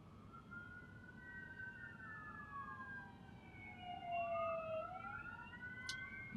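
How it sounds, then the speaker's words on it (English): An ambulance siren passes with a wailing, sweeping tone that rises, then drops in pitch as it goes by, moderately distant over a steady background hum of traffic. "Sounds like an ambulance."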